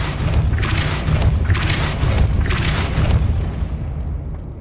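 Depulso spell cast in Hogwarts Legacy: three heavy, booming whooshes about a second apart, loud and close over a rumbling game background, fading at the end.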